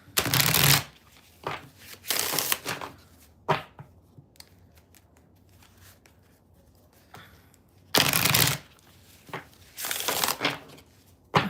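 Bursts of riffling and shuffling tarot cards, several rapid flurries separated by quieter pauses with light handling noises.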